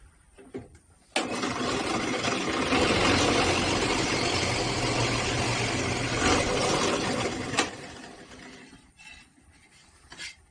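A power drill bores holes through wood, a loud steady grinding buzz running about six seconds close up before cutting off into quiet.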